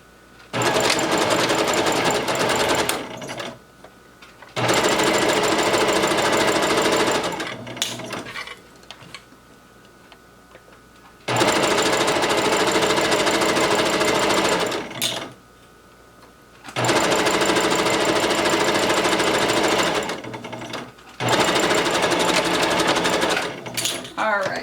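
A sewing machine stitches a side seam in tricot fabric, running in four long loud bursts of rapid mechanical whirring separated by short quiet pauses.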